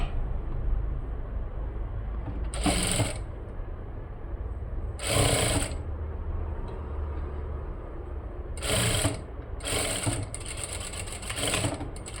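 A sewing machine runs in several distinct bursts, double-stitching a shoulder seam on a blouse, each run loud and close with a high whirring buzz, separated by pauses.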